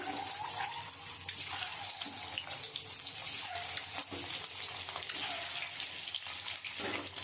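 An egg seasoned with turmeric and salt fries in hot oil in a pan, giving a steady, close sizzle and hiss that runs unbroken through the whole stretch with no talking.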